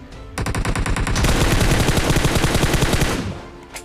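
Rapid automatic gunfire from a PUBG match rattles out loud and continuous for about three seconds, a dense burst of shots that starts abruptly and then tails off.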